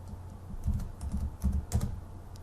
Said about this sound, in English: Let's type John in March.